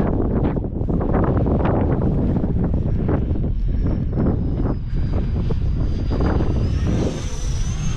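Strong wind buffets the microphone at an airfield in loud, gusting rumbles, with a faint high whine of a model jet engine drifting in and out behind it.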